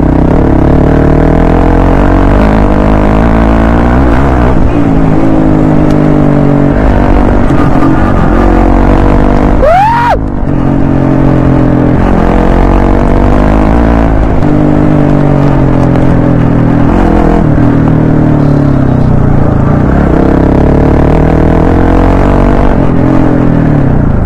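A Hero Xpulse 200 4V motorcycle rides off-road during a weekend trail outing, its engine droning loudly and close throughout, with throttle swells and a sharp rev partway through.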